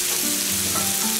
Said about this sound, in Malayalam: കറിവേപ്പിലും ചേർത്ത് നന്നായിട്ട് വഴറ്റുക.